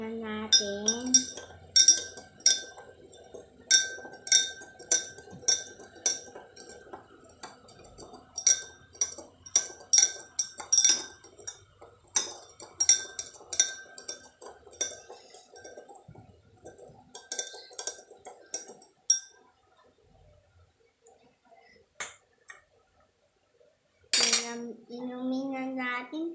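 A spoon stirs calamansi juice in a glass, giving a steady run of light metallic clinks and taps against the glass over about twenty seconds, close and clear, with a voice speaking briefly near the end.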